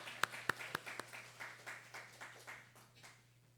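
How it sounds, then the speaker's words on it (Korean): A church congregation claps in a steady rhythmic beat during a Sunday service, sharp at first and then softer, heard faintly over a low hum. "우리 하나님께 영광의 박수를 올려드리겠습니다."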